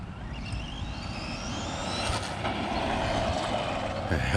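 Arrma Gorgon brushless RC truck speeding down a street, its motor whine rising steadily in pitch over a continuous close rumble of tires on pavement, getting louder toward the end.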